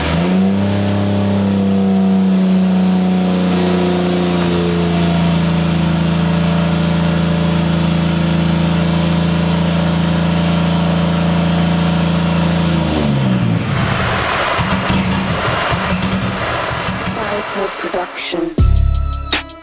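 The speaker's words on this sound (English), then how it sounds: "first things first, we gotta get this car started" Car engine running with its fuel lines being drained, a steady, loud idle that holds for several seconds, then falters and dies, followed by clattering noises.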